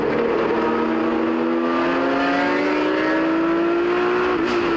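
A 1979 Porsche 935 race car at a vintage race drives loud and close with a sustained engine drone that climbs steadily in pitch as it accelerates, with no talk over it.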